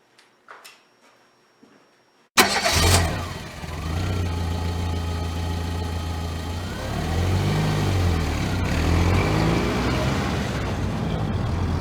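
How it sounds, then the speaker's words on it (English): After a few faint knocks and a quiet pause, a car engine abruptly fires up and settles into a steady, close hum whose pitch rises and falls gently as the car pulls away. "instead of taking a plane, we're going to start out by driving"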